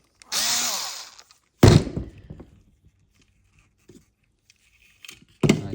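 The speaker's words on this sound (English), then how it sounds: "T8 Torx screw again." A small electric screwdriver whirs in short bursts while removing a T8 Torx screw from a Dyson V10 cordless vacuum, with faint clicks and handling knocks in between, close and quiet overall.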